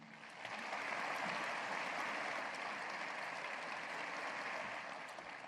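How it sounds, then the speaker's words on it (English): Audience applause at a university State of the University address, a steady wash of many hands clapping at moderate distance, sustained evenly for several seconds before tapering slightly. "let's applaud them for a job well done"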